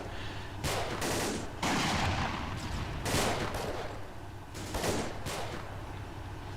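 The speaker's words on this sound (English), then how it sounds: "The guys are firing at something, that's for sure." Soldiers fire in Iron Front: Liberation 1944, sustained bursts of rifle and machine-gun fire in repeated volleys, moderately distant, with no talk.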